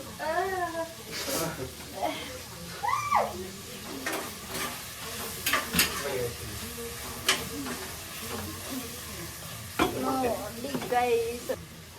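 Onion and tomato fry with masala for a rice dish, a steady sizzle broken by the scrape and clatter of stirring, while people talk over the cooking.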